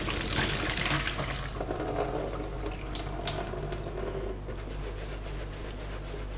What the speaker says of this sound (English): Once these noodles are ready, beautiful, we're going to strain them off.